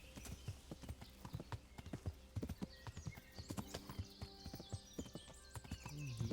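Hooves of a not-very-strong horse gallop in a steady clip-clop rhythm in the medieval game Kingdom Come: Deliverance, fairly close, with a brief whinny and occasional faint background voices.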